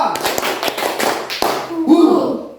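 Classroom pupils perform a rhythmic spirit clap on cue, several sharp claps in a patterned beat, loud and close, with a voice speaking over and between them.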